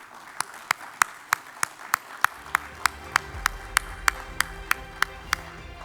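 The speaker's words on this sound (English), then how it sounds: "A bigger round of applause for him, please." Sharp, evenly spaced claps ring out in a steady rhythm, about three per second, loud and close with a faint hum beneath, welcoming a speaker at an audit conference.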